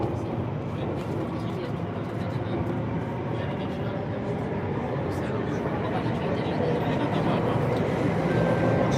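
Singapore MRT train departing a station on the line to Harbour Front, a loud, steady rumble and whine of the carriage under a recorded onboard announcement.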